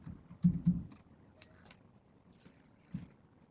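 A computer keyboard being typed on to enter a short search word: a few soft, close clicks in a brief burst, then one more keystroke after a pause, in an otherwise quiet room.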